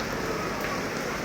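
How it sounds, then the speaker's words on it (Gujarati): Steady rain falling outside in Ahmedabad, an even, continuous hiss of drops on surfaces, moderately loud and unbroken, with no voices. "અત્યારે બહુ સરસ વરસાદ ચાલુ થઈ ગયો છે"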